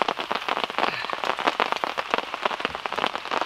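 Steady rain pattering on surfaces in a forest during a solo camping trip, a dense, continuous patter of close drops with no voices.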